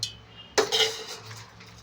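A mixer jar is picked up and handled while making tamarind-leaf coconut chutney: one sharp metallic clank midway, then softer rattling clinks that fade in a quiet kitchen.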